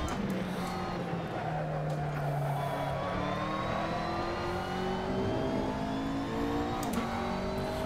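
McLaren GT3 race car in Assetto Corsa on the Nordschleife, its engine droning steadily and climbing in pitch as it accelerates through the gears, with a brief shift dip near the end; no voices.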